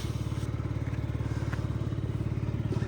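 A Yamaha Jog SA39 ZR fuel-injected scooter engine runs steadily nearby with a low, even buzzing putter and a faint rattle, and no voices.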